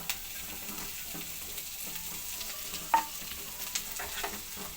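Grated carrot fries in a pan with a steady, close sizzle while a utensil stirs it, scraping now and then, with one sharp clink near the middle; no voices.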